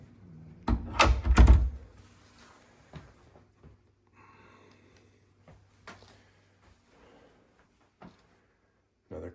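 An original solid wooden closet door in a house opens and shuts with a couple of loud thunks near the start, followed by faint scattered knocks and light handling noises in a quiet room.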